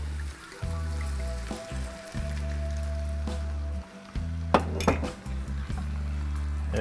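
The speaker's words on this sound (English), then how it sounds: "I'm going to dig all that meaty goodness out of the bottom of that pan so it turns into delicious gravy" A utensil scrapes and clinks against the bottom of a pan as it is deglazed with red wine for venison goulash, with light metallic taps and a soft liquid sizzle over a steady low kitchen hum.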